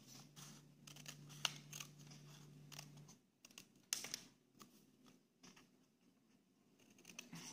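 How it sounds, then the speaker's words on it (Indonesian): Scissors cut through paper folded in two in a quiet room, giving a few faint, separate snips with pauses between them. A steady low hum runs under the first few seconds. "Lalu kita gunting"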